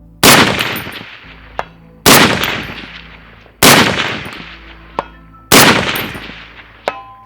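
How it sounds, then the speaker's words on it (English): An M21 sniper rifle firing Federal Gold Medal match ammunition on a 400 to 550 range: four loud, sharp shots spaced about 1.6 seconds apart, each decaying, followed by a faint distant ring of a steel target impact. "Now today we're going to be shooting at 400 and 550, so we're going to go ahead and get started"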